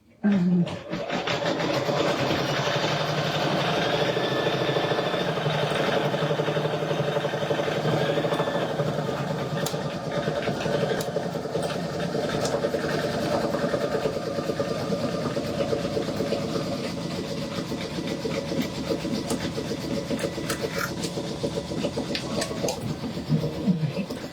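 A Brother embroidery machine stitching a penguin parade design on a Christmas hanging sign, a continuous rhythmic mechanical whirr and clatter at steady loudness, with a voice talking at times over it.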